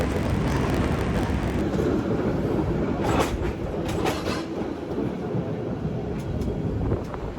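A cable car in the USA runs along its rails with a continuous rumbling clatter and rattle, steady and fairly close throughout.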